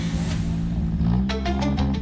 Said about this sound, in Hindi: और गरजते इंजन के साथ फर्राटा भरती कार।